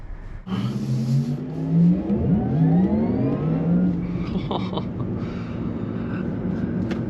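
A Porsche Taycan 4S electric car pulls away and accelerates, its rising tonal motor whine sweeping upward over road and tyre rumble, close and steady from inside the car.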